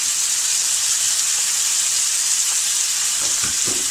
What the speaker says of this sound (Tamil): வெங்காயம் நல்லா போட்டுட்டு நம்ம வதக்கலாம்.